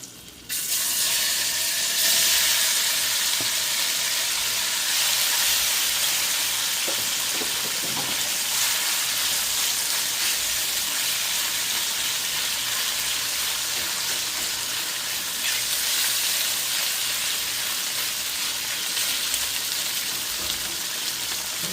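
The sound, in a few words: shrimp frying in oil with Scotch bonnet pepper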